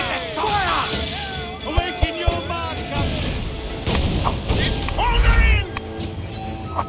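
Explosions in Assassin's Creed 4 Black Flag: a few heavy booms and crashing impacts, loud and close, with a deep rumble near the end, mixed under a voice talking and game sounds.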